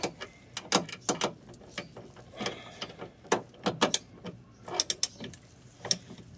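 A loose part on a Toyota Vios car is tightened with a hand tool, producing close, crisp ratcheting clicks in short irregular bursts with quiet gaps between.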